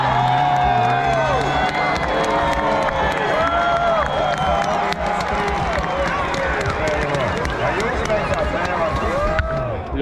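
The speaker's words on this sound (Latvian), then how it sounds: "tu noteikti sajūti ovācijas" A crowd cheering and clapping at an event, with loud, continuous ovation, whoops and shouts filling the whole stretch, voices mixed through it.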